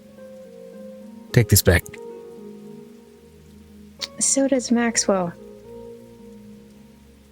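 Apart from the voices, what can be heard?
rain ambience in a D&D session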